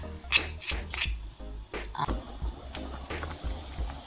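A pot of Jamaican stew peas boils on the stove, with close, irregular bubbling pops and gurgles over a soft watery churn, continuing throughout at moderate loudness.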